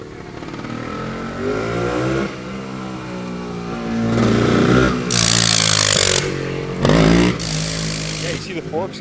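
A 1976 Montesa Cota 348 trials motorcycle engine revs and rises in pitch, rasping loudly in surges with brief roaring bursts, close by, while engine braking slows the bike.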